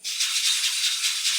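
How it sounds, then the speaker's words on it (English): Metallic bells strung around a djembe jingle and rattle steadily for over a second, bright and close, with no talking. "We also have bells strung around this djembe."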